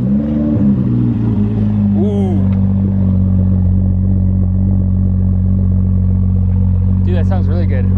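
A BMW F30 335i with a muffler-delete exhaust holds a loud, deep, steady engine drone close by, while people talk over it.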